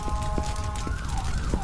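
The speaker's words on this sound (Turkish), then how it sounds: "Ambulans şu Ambulans yolu aç ve onları kurtar." An ambulance siren in a driving video game wails steadily over a rumbling engine, with a faint rhythmic clatter repeating underneath.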